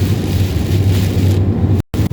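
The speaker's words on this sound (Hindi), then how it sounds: "बारिश बहुत तेज होती जा रही है।" Heavy rain drums steadily on a car while driving on the road from Lahore to Abbottabad, a loud dense wash of noise with a low engine and road rumble beneath, then a sudden cut near the end.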